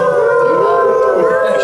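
A person imitates a wolf howl with a single steady, loud, sustained voiced wail lasting under two seconds, close to the listener, with no other sound around it.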